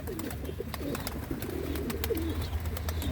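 Young tumbler pigeons give soft, repeated rolling coos close by, over a steady low background hum and faint ticking, with no speech.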